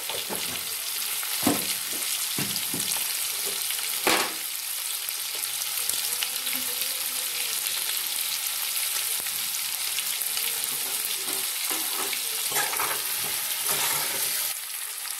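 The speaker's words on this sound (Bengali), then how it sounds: "এখানে নুন দিয়ে দিচ্ছি শুধু আলুটা ভাজার জন্য, আর একটু হলুদ দেবো।" Boiled potatoes frying in oil with salt and turmeric for a Kashmiri aloo dum, a steady close sizzle with occasional scraping stirs and small pops throughout.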